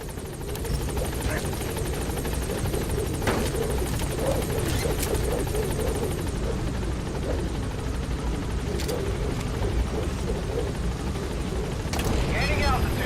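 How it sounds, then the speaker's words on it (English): A helicopter in the video game Metal Gear Solid V: The Phantom Pain gives a steady, loud rotor drone that fills the whole stretch, with voices speaking over it. "¡Helicóptero!"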